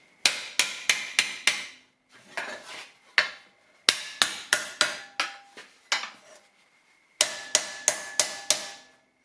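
A heavy punching hammer strikes 1.2 mm sheet metal over a tucking fork while shrinking an inner upper door support. Close, loud, ringing metallic blows come in quick bursts of four to six, separated by short pauses.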